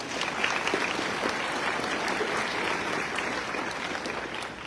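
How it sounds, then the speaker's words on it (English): Audience at a fall White Coat Ceremony gives a sustained round of applause, a dense, steady patter of many hands clapping at even loudness throughout, with no voices standing out. "Let's give him another round of applause."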